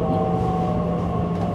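An S-Bahn train runs through the City Tunnel Leipzig with a steady, loud rolling rumble and a faint tonal whine, heard from inside the carriage without talk.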